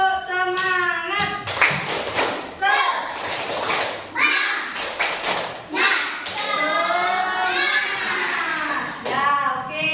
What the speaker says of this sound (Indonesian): kita tepuk semangat dulu ya sedikitnya.